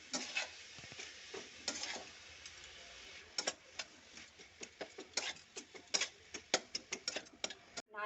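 A spatula scrapes and taps around a wok as date palm jaggery and coconut filling for pithe cook, giving irregular clicks and scrapes over a soft bubbling sizzle that grows busier toward the end.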